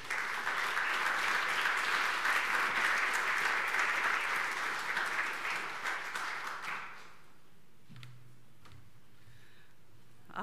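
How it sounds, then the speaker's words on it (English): An audience at the opening of the Te Au o Te Moana conference in 2023 claps in sustained, dense applause for about seven seconds before it quickly fades to a quiet hall with a few scattered sounds. "Ladies and gentlemen, big round of applause for Tania Simpson."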